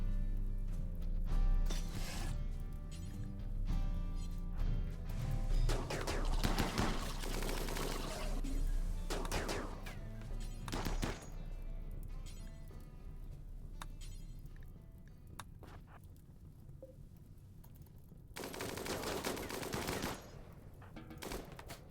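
Colonists in the game Rimworld trade gunfire in long stretches of rapid, rattling shots mixed with single cracks and mechanical clicks, moderately loud, with game sounds and a few brief quieter gaps.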